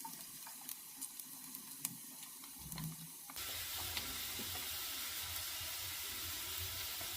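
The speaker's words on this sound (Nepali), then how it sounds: "अब प्याजलाई पनि एकैछिन फ्राई गर्नुपर्छ" Chopped onions hit a hot oiled pan while egg chow mein is being cooked, starting a loud, steady sizzle and hiss that stays up close and continuous after some softer kitchen clatter beforehand.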